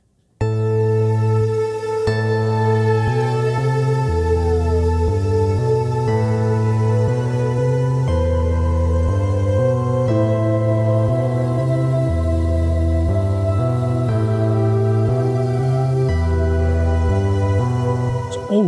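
Layered Omnisphere synth arpeggio with stacked octaves over a stepping bass line, playing continuously and loud with no voices.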